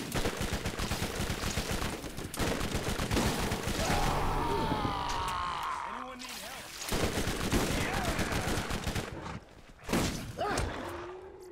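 Sustained automatic gunfire in the arena shooter Friday Night Combat, rapid shots rattling steadily with brief lulls and a few heavier thumps, with players talking over the shooting.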